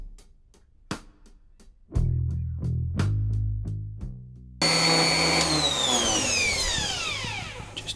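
Router cutting into a wooden guitar body, starting with sharp knocks and a low motor hum, then a loud steady high-pitched whine as the bit runs through the wood.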